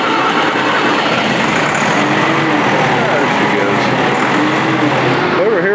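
An old Volvo truck cranks and runs as a loud, continuous rumbling engine close by, steady and droning throughout.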